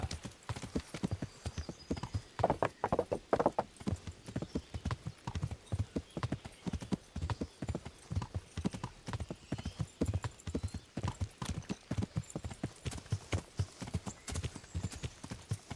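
Horse hooves clip-clop at a steady walking pace throughout in Kingdom Come: Deliverance, close and clear, with a brief neigh near the start.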